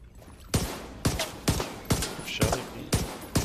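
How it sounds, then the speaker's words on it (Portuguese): Machine gun fire in a video game comes as loud, sharp bursts repeating at a steady pace about every half second, each burst ringing briefly before the next. "Ai, metralhadora!"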